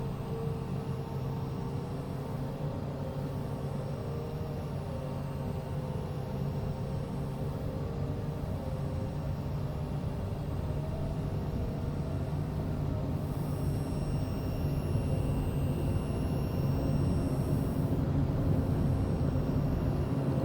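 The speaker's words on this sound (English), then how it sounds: "We're going to take off and go right at that mountain, and then we're going to turn to the right." A small airplane taking off from the airport on Sint Maarten, heard as a steady, even engine drone from inside the cabin that builds slightly toward the end.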